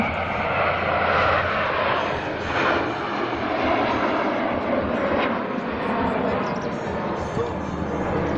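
Aerobatic aircraft performing the Concorde formation figure at an air show, a loud, steady engine roar that fills the whole stretch overhead, with voices mixed into the din.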